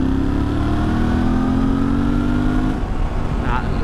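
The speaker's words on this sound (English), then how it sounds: "Now we want to do it in a high gear just to see if the clutch slips." A used motorcycle's engine pulls steadily up through its rev range in a high gear during a clutch-slip test, a loud droning tone climbing in pitch before it cuts off near the end.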